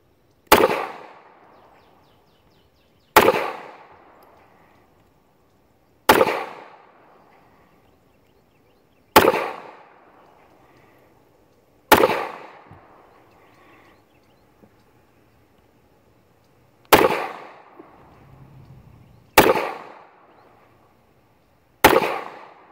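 Eight single shots from an old used S&W 469 9mm pistol fired at a 10-yard target outdoors, each a loud sharp crack with a short decaying tail, spaced about three seconds apart, no talk.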